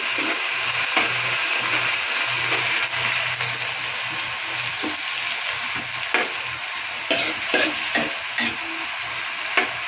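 Meat going into a pan of browned vegetables for adobong sitaw, a loud continuous sizzle and frying hiss with regular stirring scrapes and clacks of the spatula toward the end, close up and without talk.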